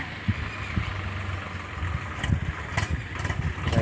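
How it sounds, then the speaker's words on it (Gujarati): A tractor's diesel engine rumbles steadily at idle with low chugging, some clanks and knocks on top, fairly close and continuous. "આવી ગયું છે આપણું ટ્રેક્ટર હવે"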